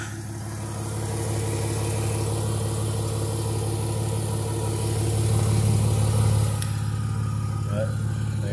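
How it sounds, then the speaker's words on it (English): A 2014 Dodge Charger SE V6 with true dual exhaust idles steadily with a deep, even burble, swelling a little louder partway through before settling back to a smooth idle. "it's a true dual exhaust"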